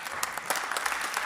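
Audience at a professional conference session clapping together, a dense steady patter of many hands filling the room without break.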